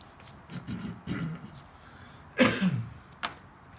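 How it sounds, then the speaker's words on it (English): A sharp, harsh cough bursts out during a drawing class after some faint rustling, followed a moment later by a second, shorter cough, close to the microphone. "I don't cough at home like this."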